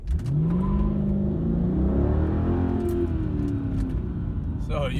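Mercedes C55 AMG W203 launching hard with tires spinning, engine revving up sharply and rising in pitch, loud and close, with brief tire chirp.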